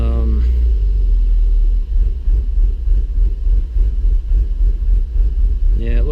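A 1992 BMW engine idles roughly with a steady low rumble that rises and falls in small surges, close to the microphone and running throughout with no other sounds on top.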